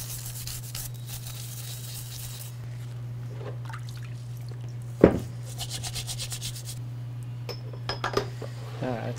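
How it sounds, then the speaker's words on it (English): Small scrub brush rubbing and scrubbing greasy Bridgeport milling machine tooling parts in a shop, with scratchy bursts, a sharp clank of metal parts, and a steady low electrical hum underneath. "a little scrub brush here. Give this thing's a little quick little scrub down."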